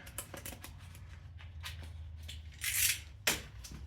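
Sticky interior lining is cut inside a 1987 Toyota Tercel 4WD: faint close crisp snips and tearing rustles over a low rumble, with a couple of louder scratchy bursts near the end.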